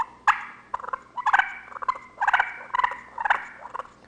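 A double slate turkey call scraped on the edge of its box to imitate a wild turkey, producing a series of sharp, raspy yelps and clucks in irregular bursts, loud and close.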